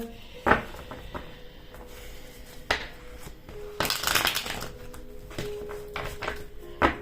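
Tarot cards are shuffled and handled in a quiet room, giving soft papery riffles and sharp slaps in several short bursts with pauses between them.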